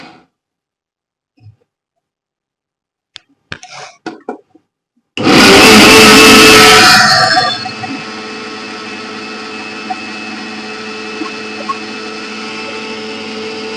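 A kitchen mixer grinder whirs loudly for about two seconds while grinding salt, citric acid and soda powder into a homemade utensil-cleaning powder, then winds down into a lingering motor hum; brief clatter precedes it.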